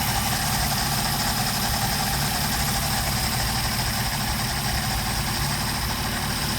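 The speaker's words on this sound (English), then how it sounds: "Put it over on the high side so we can rev the engine up." The engine of a Mercedes 190SL runs on Solex carburetors during a test with the throttle held high, giving a loud, steady, close drone with throbbing low harmonics and an even, sustained pitch.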